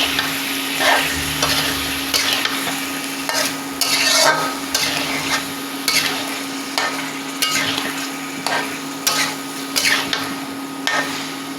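A pumpkin, pointed gourd and potato curry is stirred in a pan, a spatula scraping and rubbing in repeated strokes over a steady low sizzle, close and fairly loud with no talking.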